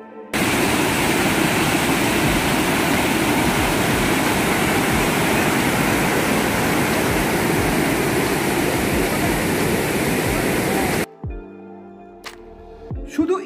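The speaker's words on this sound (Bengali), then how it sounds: "সুন্দর ঝর্ণা।" Waterfall near Dhanbad amid forest and hills, a loud, unbroken roar of rushing water heard close up for about eleven seconds before it cuts off abruptly to quiet.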